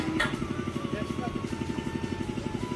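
A motorboat engine throbs steadily with a fast, even pulse as the boat moves on the water at Noka Ghat in Sepahijala, with faint voices in the background.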